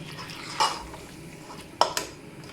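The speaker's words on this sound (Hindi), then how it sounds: "बहुत एहतियात से चमचा चलाएं, क्योंकि गर्दनें बड़ी नाजुक सी होती हैं" A spoon moves gently through chicken necks coated in masala in a pot, giving a few soft scraping clinks against the metal, one near 0.6 seconds and a pair near 1.8 to 2 seconds, with no voices.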